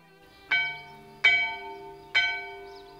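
Three evenly spaced strokes of a church bell ring from the Bojovské wooden bell tower, each clear metallic clang decaying into a humming tone before the next strike.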